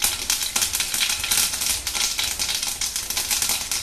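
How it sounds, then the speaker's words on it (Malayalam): Mustard seeds pop in hot coconut oil in a kadai, a dense stream of sharp crackles and spits, close and fairly loud, with no talking. "കടുക് പൊട്ടിക്കഴിയുമ്പോൾ"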